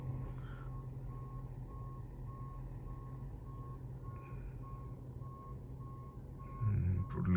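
A truck reverses during a driving test in Canada, its backup alarm sounding as a steady, evenly spaced series of beeps over a continuous low engine rumble, with the engine growing louder near the end.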